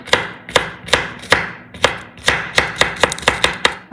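Walnuts being finely chopped for a salad, about a dozen sharp knife strikes on a board in a quick, slightly uneven rhythm, close and distinct, no talking.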